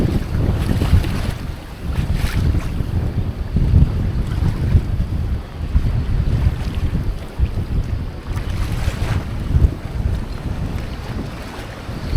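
Strong Storm Ashley wind roars steadily into the microphone with a rushing, buffeting sound, and waves break in the background by the shore, with water up to the roadside wall.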